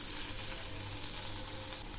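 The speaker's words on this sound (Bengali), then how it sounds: "এগুলি ভাজা প্রায় হয়ে আসছে।" Ingredients for a bottle gourd leaf paste fry in a pan with a soft, continuous sizzle. The hiss is faint and even, and no voices are heard.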